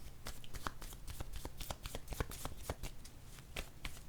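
Playing cards being shuffled for a card reading, a steady run of quick crisp riffling flicks close by, with no voices.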